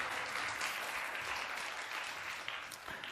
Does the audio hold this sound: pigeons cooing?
no